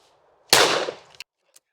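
A single loud, close shotgun blast at clay targets, an ejector gun with no recoil system, ringing out sharply and decaying, followed by two faint clicks of the action.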